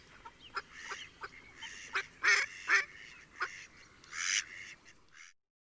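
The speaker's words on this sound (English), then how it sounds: "Listen to all those ducks." Ducks quacking in a lively flock, a series of loud, nasal honking quacks in irregular bursts, some clustered together, close and clear with no talk before the sound stops.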